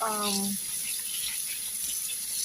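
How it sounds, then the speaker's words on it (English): Sliced vegetables for pepper steak are rinsed under a running kitchen tap, a steady close hiss of water with a brief voice at the start. "now I'm going to give them a quick wash"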